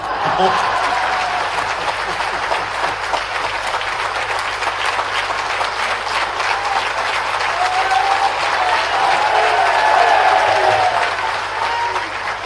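Sustained applause from an audience at a political rally in Bhopal, steady and dense throughout with some crowd murmur and scattered laughter mixed in.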